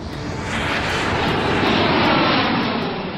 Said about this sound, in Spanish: el vuelo 447 de Air France despega de Río de Janeiro con rumbo a París